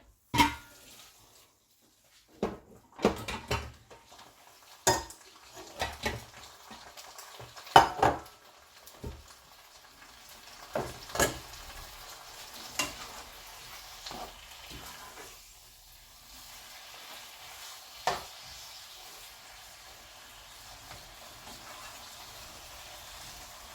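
Honey soy pork heats through in a pan with a soft, low sizzle, punctuated by scattered clinks and scrapes of a utensil against the pan; quiet overall.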